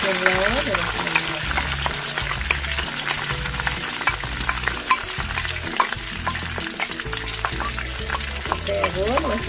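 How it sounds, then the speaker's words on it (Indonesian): Spices for goat trotter curry sautéing in a pan, a steady busy sizzle with stirring clatter throughout while background music plays underneath. "Kita tumis sampai harum ya"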